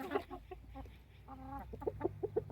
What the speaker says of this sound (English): And we got 2 roosters in there